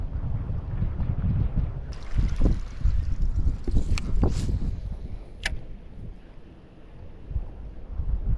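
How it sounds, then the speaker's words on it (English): Gusty wind buffets the microphone on a lake during a bass fishing outing, a steady low roar with rising and falling gusts and faint water noise from a boat throughout. "look at this wind, man"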